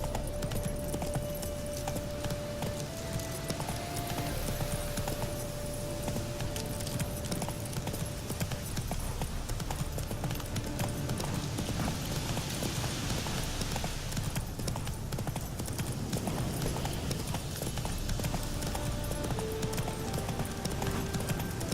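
Roach the horse gallops in The Witcher 3, with steady, rapid hoofbeats drumming on without a break under faint game ambience and a few thin tonal notes.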